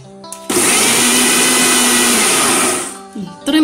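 A kitchen blender whirs steadily through a biscuit ice cream mixture made with vanilla, starting abruptly, holding a loud even whine for a few seconds, then winding down, with brief speech before and after.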